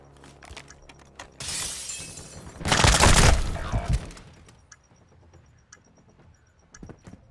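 A bomb detonates in Call of Duty Modern Warfare II Search and Destroy mode, a loud shattering, crackling blast that swells then peaks about two seconds later before decaying, with quieter clicks and game sounds around it.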